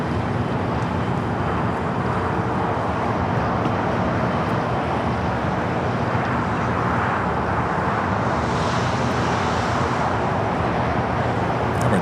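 ANA Boeing 787 Dreamliner, arrived from Tokyo Haneda, taxiing on the north side of LAX: a steady, broad jet engine rumble and whine held at an even level, blended with distant airport traffic noise, with no voices.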